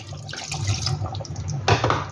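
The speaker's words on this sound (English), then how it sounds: "Add some water" Water poured from a vessel into a pot of chicken kurma in a home kitchen, a steady close splashing pour lasting about two seconds with a brief louder surge near the end, heard alone without talk.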